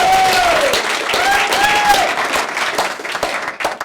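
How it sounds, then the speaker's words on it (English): A crowd at a tech design evening applauds, dense clapping under faint tonal voices or whistles, loud at first and gradually tapering off with scattered claps near the close. "how about a big round of applause for Autodesk"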